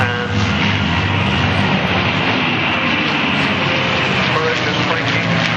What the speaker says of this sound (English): Strange airplane, the Mustang,